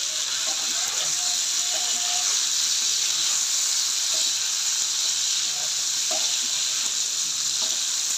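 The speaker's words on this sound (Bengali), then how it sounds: "কলাগুলা ভাজা হয়ে যাবে।" Raw banana pieces fry in a pan alongside potatoes, a loud, constant hissing sizzle close by, with a few faint stirring clicks and no talking.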